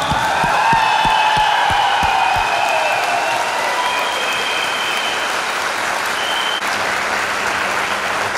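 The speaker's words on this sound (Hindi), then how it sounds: "तो आप सब लोगों के लिए एक जोरदार ताली" An audience at a company leadership event bursts into loud, sustained applause, with a few sharp, distinct claps at the start merging into a dense roar of clapping and faint cheers.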